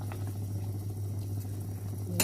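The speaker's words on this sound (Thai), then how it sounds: "เดือดแล้วนะคะ" A pot of pork rib tom yum soup bubbling at a steady rolling boil, a constant close simmering hiss and burble with a low hum beneath, and a brief clink near the end.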